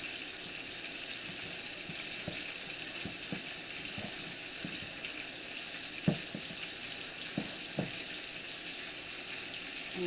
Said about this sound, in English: you can hear the chicken frying